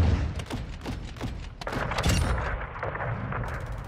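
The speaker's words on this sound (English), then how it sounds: "Friendly cruise missile approaching target." A cruise missile strike lands in a Call of Duty: Modern Warfare II Hardpoint match, with a burst of heavy thuds and booms hitting in quick succession over a rumbling battlefield bed.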